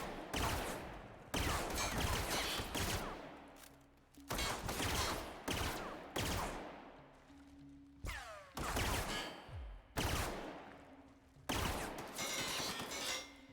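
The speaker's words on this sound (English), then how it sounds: "I'm shooting it through here." Gunfire in the video game The Outer Worlds: bursts of loud, sharp shots in rapid clusters with mechanical clicks and ringing tails between them, repeating roughly every two seconds with short gaps of quiet.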